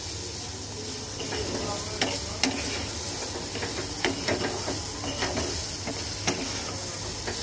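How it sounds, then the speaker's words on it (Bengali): Soybean chunks fry in a hot pan with a steady close sizzle and hiss, punctuated by several sharp spatula scrapes and stirring knocks, no speech. "তো সয়াবিনটাকে আগে আমি একটু ভাজার পর আমি তোমাদের দেখাবো কতটুকু ভাজলাম"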